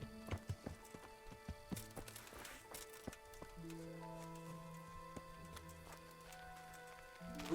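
In the video game Kingdom Come: Deliverance, horse hooves approach as a string of quiet clip-clops, faint at first and growing, with game music tones layered underneath.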